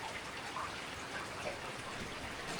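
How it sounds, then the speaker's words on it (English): Steady rain falls at a house in the Black Forest above the Seebach valley, a soft, even hiss of drops with no voices. "Just when I arrived here, it starts raining."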